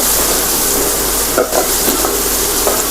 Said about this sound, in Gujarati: ડુંગળીને આપણે સાંતળી લેશું